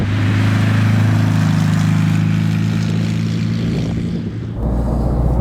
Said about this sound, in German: Schöner Sound, Porsche.